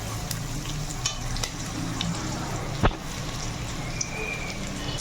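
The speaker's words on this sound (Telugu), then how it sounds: "ఇప్పుడు కొంచెం పసుపు వేసుకొని కలుపుకోండి" Vegetables frying with turmeric for khichdi, a steady close sizzle with stirring scrapes and a sharp clack near the end.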